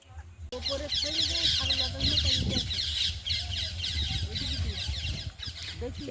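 Chickens, a mother hen with chicks and grown birds out in a field, cluck and squawk continuously over a busy, bright outdoor background, with birds chattering throughout.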